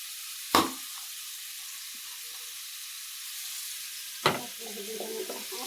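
Fish and pumpkin pieces with turmeric are stirred in a pan, giving two sharp scraping knocks a few seconds apart over a faint, quiet background sizzle.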